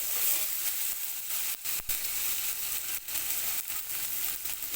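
Green chillies sizzling and frying in hot oil, a steady close crackling hiss broken by a few brief dips as they are stirred, with no voices.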